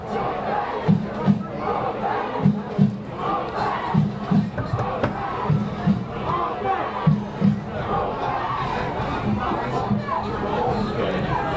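Crowd noise at a night high school football game between Revere and Everett, a broad murmur of spectators with bursts of cheering rising and falling, carried under an announcer's ongoing commentary.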